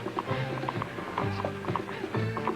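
Horse hooves clip-clopping in a steady walking rhythm, clear and close, with faint vocal sounds mixed in.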